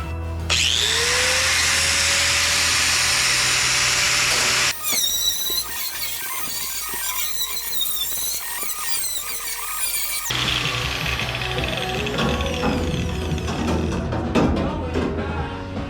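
A power tool cuts the speaker grate out of the dash of a 1965 El Camino, starting with a loud sustained metallic whine, then breaking into harsh rattling, squealing bursts before grinding on loud and steady to the end.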